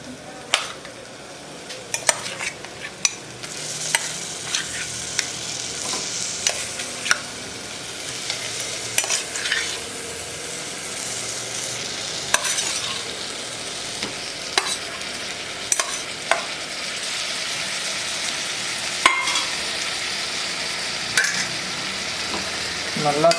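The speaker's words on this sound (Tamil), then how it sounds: "இப்போ வந்து நம்ம மட்டனை ஆட் பண்ணிக்கலாம்." Mutton sizzles and fries with masala in a pan, a continuous crackling hiss broken by repeated scraping stirs and clinks of a spoon against the metal.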